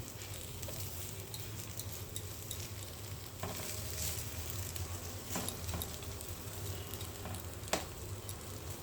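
Mushroom roti cooking on a hot pan gives a soft, continuous low sizzle with a few light taps and scrapes as it is turned.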